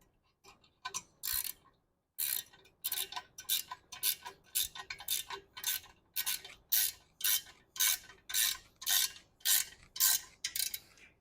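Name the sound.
ratcheting wrench tightening bolt on gym sled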